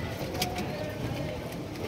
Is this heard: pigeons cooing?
yes